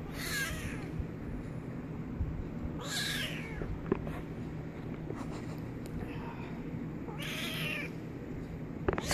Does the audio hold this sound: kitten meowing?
yes